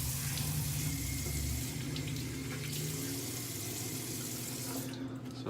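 A bathroom sink tap runs in a steady, loud stream while someone wets their face before shaving. The flow continues unbroken for several seconds, with faint splashing and no talk.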